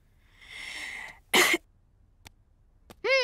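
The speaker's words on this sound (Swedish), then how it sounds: "Andas in djupt och hosta." In a cartoon, a long, deep breath in, then one short, forceful cough during a heart check with a stethoscope. A voice starts up right after.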